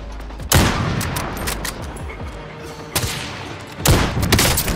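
Gunfire in a video game: loud, sharp shots crack out close by at irregular intervals, with heavier bursts near the start and near the end and a low rumble running between them, with no talking.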